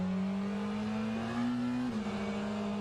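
A McLaren GT3 race car engine drones loud and close at Sebring, a steady high note that climbs slightly under load then drops as the driver lifts, with no talk over it.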